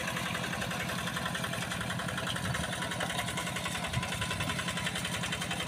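A farm tractor's diesel engine chugs steadily in a fast, even rhythm while levelling a muddy rice field, running continuously at a moderate distance with no other sounds.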